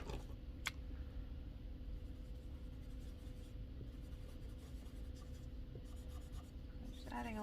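Marker pens color on paper in quiet, steady scratchy strokes, soft and close against a low room hum, with a few brief squeaks near the end.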